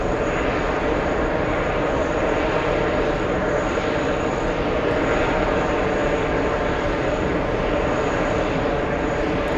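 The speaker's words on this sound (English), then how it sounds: "That is definitely a 777-300ER." An Air France Boeing 777-300ER airliner, its engines giving a loud, steady, broadband roar that holds level throughout with no talk over it.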